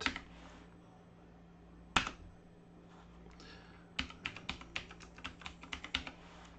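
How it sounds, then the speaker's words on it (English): Clicky computer keyboard typing a Linux command: a few isolated key presses, then a quick run of sharp taps in an irregular rhythm, close and crisp over a low steady hum. "we're going to type sudo space nems dash init"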